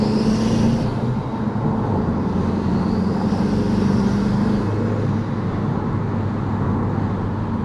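Audi TT with an upgraded turbo accelerating hard under boost, a loud continuous engine roar with rising tones and steady intensity throughout, no voices.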